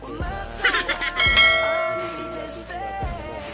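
A notification bell sound effect rings out as a bright, sustained chime, struck a few times with a long shimmering decay. It plays clearly on its own.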